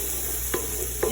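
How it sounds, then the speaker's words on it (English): Fresh garlic sizzles in a frying pan as a steady low hiss, broken by two brief scraping stirs about half a second apart. "I just added the fresh garlic to the pan."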